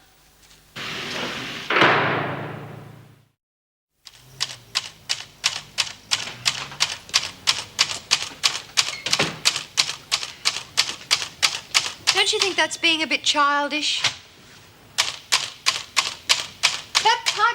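A typewriter is struck in quick, steady keystrokes, a long run of sharp mechanical clicks close by. Voices speak at the start and briefly partway through.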